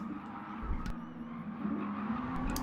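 A race car spins out in Gran Turismo Sport during a classic cup race at Goodwood, engine droning with tire squeal and skidding, moderately faint and without talk.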